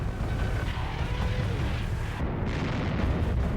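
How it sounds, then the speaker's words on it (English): German artillery shelling during the Battle of the Bulge rumbles as a dense, heavy roar of booms and blasts, loud and continuous. "and the Germans started to shell us"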